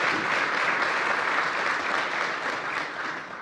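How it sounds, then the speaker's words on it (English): Steady applause from a sizable audience at a county government address, sustained and even, tapering slightly toward the end. "let's give them another round of applause"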